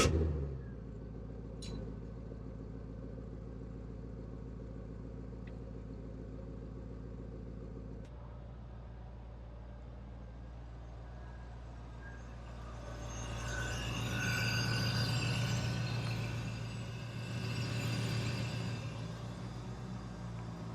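A 1995 Chevrolet Corvette out on the road, its engine a steady low rumble that swells as it accelerates twice in the second half, heard from inside with no talking.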